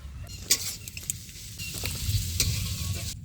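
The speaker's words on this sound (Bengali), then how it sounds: "আমি এবার ডিমের আলুটা ভেজে নিই" Potatoes for an egg-and-potato dish fry in a pan in a village kitchen, a steady crackling sizzle with scraping stirs and small clatters, moderately close with no talking.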